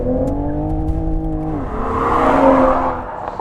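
A 2021 Toyota Supra's inline-six engine pulls hard from inside the car, its steady rising tone breaking at a gear change before building into a louder, rougher roar, with no talking.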